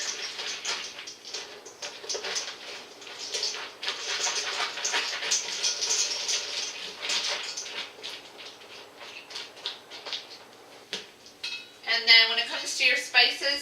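Pumpkin seeds coated in olive oil are stirred in a bowl, giving an uneven stream of close scraping, rattling clicks that swell and fade, ending with a sharper burst of rattling.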